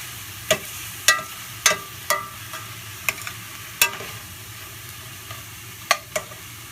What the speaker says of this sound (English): So you're going to want to saute this for at least 3 minutes.